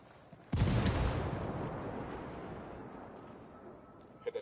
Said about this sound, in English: Hear that explosion?